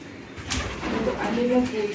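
A pigeon coos softly a few times, low and throaty, over faint background voices and room noise.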